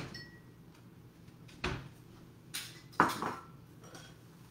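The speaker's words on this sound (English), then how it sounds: "let me just get a bowl to put those in" A bowl taken out in a home kitchen: a few sharp ceramic clinks and knocks with a cupboard bump, close and fairly quiet against a soft background hum.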